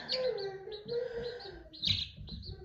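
Baby chicks hatched at home chirping steadily, a run of high repeated peeps close by with one louder burst partway through.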